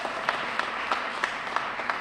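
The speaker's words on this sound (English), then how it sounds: "Can we get a round of applause?" A luncheon crowd applauds in a large room, an even roar of many hands clapping with a few sharper claps popping out at a regular beat, moderately loud and continuous.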